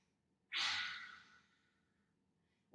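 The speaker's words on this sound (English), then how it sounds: "And take a deep breath in." A single deep breath in during a children's yoga pose, a soft, close airy inhale that swells quickly and fades over about a second, otherwise near silence.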